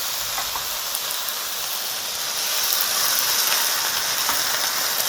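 Water poured into a hot, smoking pan of Korean dakgalbi with its sauce, giving a steady broadband steaming hiss and sizzle that swells slightly partway through, close and continuous with no talking.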